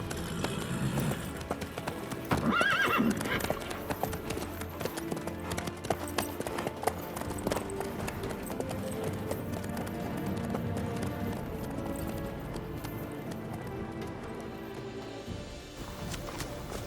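Clip-clop of horse hooves from The Witcher 3: Wild Hunt, a steady trotting rhythm carrying on under ambient music and game sound, with a brief higher neigh-like cry near the start.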